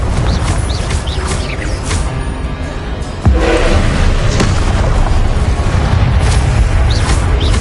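A Confringo fire spell goes off in Hogwarts Legacy on PS5, one loud booming blast midway through, with crackling, rumbling game effects and scattered chirps before and after it.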